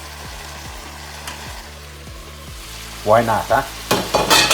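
Grease juice poured into a pot for braised oxtail stew hisses into a sudden loud sizzle, rising in several bursts over a steady low background hum, with a brief spoken aside.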